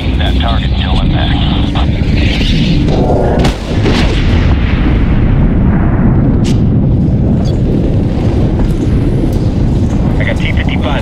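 Air strike bombs slam into a village in Medal of Honor (2010), Afghanistan, with loud booming impacts and a sharp blast near the middle, over a constant rumble of aircraft and battle noise.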